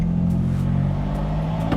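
Straight-piped 700 hp BMW M4 engine revving loudly up close from inside the car, a deep steady exhaust drone with boost building, running alone with no talk.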